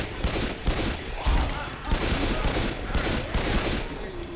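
Rapid gunfire from the zombie shooter Left 4 Dead 2, in the Dead Center campaign: continuous bursts of automatic shots in a steady crackling rhythm, loud and close, with no clear talk.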